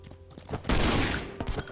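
A burst of rapid gunfire in the survival shooter game Last Island of Survival crackles out in a quick volley, fairly close and dense, tapering off with a few scattered shots and no talking.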